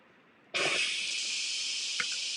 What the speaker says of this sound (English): Again, this steam is going to shoot up.